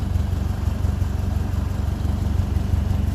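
A 1957 Ferguson 35 TVO tractor engine idles steadily, low and rhythmic, chugging evenly with a regular pulsing beat, close by and with no voices.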